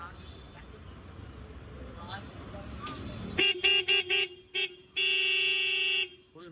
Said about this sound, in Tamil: so horn அடிங்கன்னா